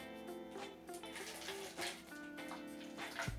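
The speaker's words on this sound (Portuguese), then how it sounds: "Em seguida vamos adicionar a água quente na garrafa." Hot water is poured into a bottle, giving a faint, continuous gurgling stream with a faintly rising hollow tone as the bottle fills, heard close and quiet with no speech.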